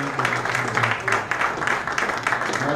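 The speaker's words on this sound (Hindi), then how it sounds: "अब तालियां" Applause from an audience at an Urdu dastangoi storytelling performance at a mushaira in Dubai, a steady broadband patter of many hands sustained throughout without a break.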